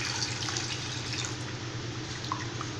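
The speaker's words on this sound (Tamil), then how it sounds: "இப்போ நான் ரசத்துக்கு தேவையான அளவு தண்ணி சேர்த்துக்கிறேன்." Water poured into a pot of village-style garlic and black pepper rasam, a steady close splashing trickle that runs unbroken and fairly loud with no talking.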